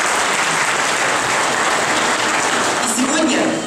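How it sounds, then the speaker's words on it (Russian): A crowd at a citizens' gathering honoring veterans with jubilee medals applauds steadily and loudly throughout, a dense continuous wash of clapping with some voices mixed in near the end. "Еще раз аплодисменты."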